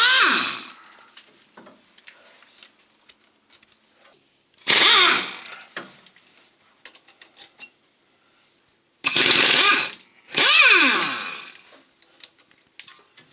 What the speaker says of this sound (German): wir machen jetzt die Antriebswelle mit dem Schlagschrauber los